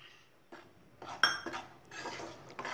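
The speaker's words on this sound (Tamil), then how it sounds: "ரெண்டையும் சேர்ந்து கொஞ்சம் நேரம் வறுத்துக்கிட்டே இருங்க" Wheat flour and rice flour are dry-roasted in a pan, heard as a quiet series of scattered metallic scrapes and clinks from a ladle against the pan, close and intermittent with no voices.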